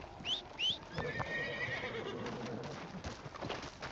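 A horse in a video game gives a couple of quick high whinnies, then a longer neigh, over soft hoof clops and faint background noise, fairly quiet overall.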